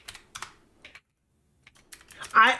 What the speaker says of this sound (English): the way he's typing